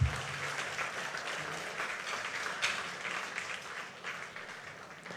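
A church congregation applauds during a Holy Week worship service, a steady wash of many hands clapping at a moderate distance that holds for several seconds and thins slightly toward the end.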